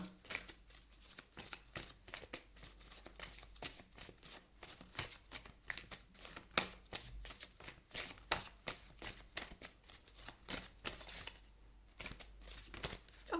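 Oracle cards are shuffled continuously by hand before one is drawn for a reading, a steady rapid riffle of papery flicks and snaps close to the listener, with no talking.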